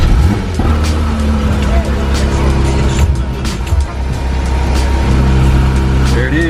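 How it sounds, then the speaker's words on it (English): A Porsche 911 GT3 fitted with a race exhaust cold-starts and settles into a loud, steady idle that holds close by throughout, its low rumble continuous from start to finish. "let's do a cold start"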